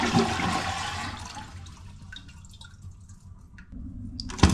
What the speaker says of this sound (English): You're gonna hit that flush one time.